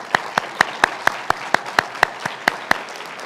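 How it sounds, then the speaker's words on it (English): At a 2021 university commencement ceremony, sparse, evenly spaced claps ring out in a steady rhythm of about a dozen sharp hits, fairly close and distinct rather than a full crowd roar. "So if the faculty and staff would please stand from ATSU, we'd love to give you a round of applause"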